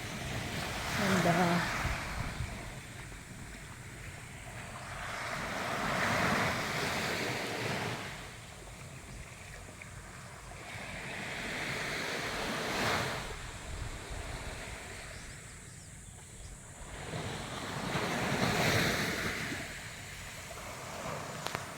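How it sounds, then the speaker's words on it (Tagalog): Ocean surf breaks on a beachfront in Calauag, Quezon, in slow swelling washes that rise and fall roughly every six seconds, with wind buffeting the microphone and no clear speech. "Dinig na yung yung alon."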